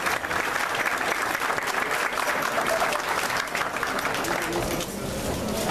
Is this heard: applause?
yes